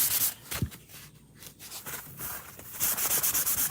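A paper towel buffs chalk paste on a craft surface in soft, scratchy rubbing strokes that come in uneven bursts, close and fairly quiet, with a steadier stretch of rapid back-and-forth rubbing near the end.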